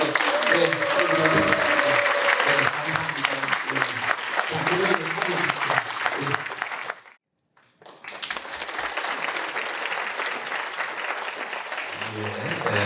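Sustained applause from the audience at a Thanksgiving dinner event, dense clapping that pauses briefly, then resumes less loudly.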